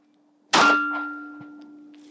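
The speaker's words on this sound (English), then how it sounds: "First shot" A single sharp 9mm pistol shot from a compact Glock 43X firing Aegis 115-grain ammunition, one loud crack with a metallic ring that tails off slowly.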